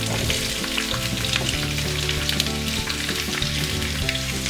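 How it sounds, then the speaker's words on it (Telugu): Cashews and onions frying in a pan give a loud, dense, continuous sizzle with steady crackle throughout, close up and without any talk. "వీటిని బాగా ఫ్రై చేసుకోవాలి"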